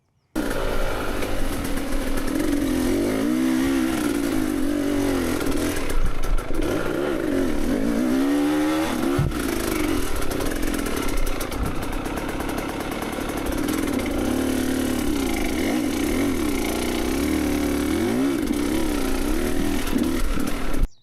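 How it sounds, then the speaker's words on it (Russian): A motorcycle engine fitted with an XTNG GEN3+ carburetor idles and repeatedly revs up sharply on the throttle, each surge quickly falling back. The sound is continuous, steady and nearby, with no voices. "И на полной ручке газа мотор моментально раскручивается."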